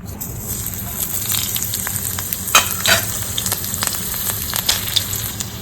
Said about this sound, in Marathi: तर यात मी आधी आपली मिरची घालून घेतलेली आहे त्याचा कच्चेपणा गेल्यावर आता मी त्याच्यात कांदा घालणार आहे